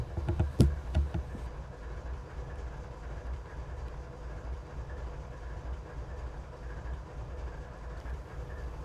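Two Kansas City Southern locomotives help shove a train up Rich Mountain: a steady, heavy low rumble of diesel engines and rolling cars, with a few sharp metallic clanks near the start.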